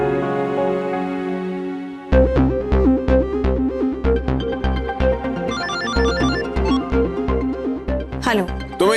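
A mobile phone rings with a melodic electronic ringtone as a man calls his wife, a sustained tone followed by a repeating tuneful ringing pattern that plays loud and clear.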